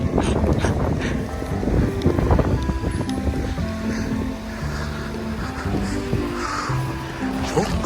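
Heavy snowstorm wind in Regina, Saskatchewan roars and buffets the microphone in a loud continuous rush, with crow caws and a brief voice in the background.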